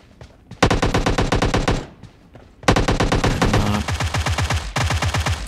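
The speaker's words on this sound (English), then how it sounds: "Oh, somebody's shooting." Rapid automatic gunfire from PUBG Mobile rattles in sustained loud bursts, with a brief pause between them and a sharp, clipped cadence of shots.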